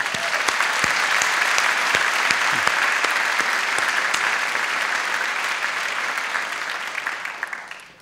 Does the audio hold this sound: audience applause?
yes